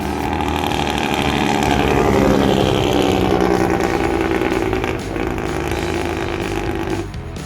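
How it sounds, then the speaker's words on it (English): A 2005 diesel truck with a newly installed engine brake rumbles loudly and steadily on the road, its deep engine drone holding for about seven seconds before easing off near the end. "The 2005 Beast just hit the road with its engine brake finally installed."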